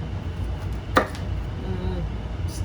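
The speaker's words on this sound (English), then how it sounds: "Rough chop everything." A knife rough-chops vegetables on a board for a shrimp poaching liquid, with one sharp close chop standing out over a low steady background hum and no talking.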